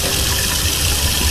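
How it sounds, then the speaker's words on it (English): A hot water tap runs steadily at full flow in a kitchen while spaghetti is being made, a loud continuous rushing and splashing of water filling the whole moment without voices. "And Tennessee, can you reach over and turn on the hot water tap for me, please?"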